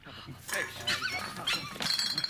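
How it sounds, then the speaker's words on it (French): A small dog barks and yips in short bursts in a French television drama scene, mixed in with ongoing talking voices and background sound. "Petit chien."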